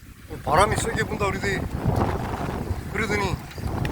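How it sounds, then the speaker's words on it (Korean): Strong wind blows across seaside rocks at Adeul Rock in Jumunjin, Gangneung, during float fishing amid rough waves; a steady low rumble of gusts buffets the microphone throughout while someone talks over it. "바람이 세게 분다"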